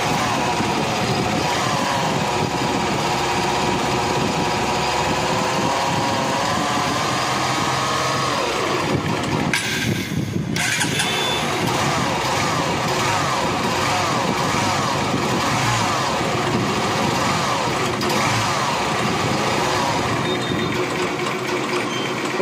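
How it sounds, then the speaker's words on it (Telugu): A Honda Unicorn motorcycle engine with a rough bearing noise runs continuously close by, a loud steady mechanical whir and clatter that barely changes across the whole stretch. "బండి స్టార్ట్ చేద్దాం."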